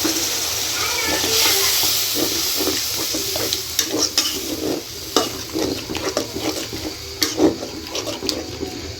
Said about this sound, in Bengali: এখন আমি একসাথে সব মিক্স করে নেব, মিক্স করে ভালো করে কষিয়ে নেব।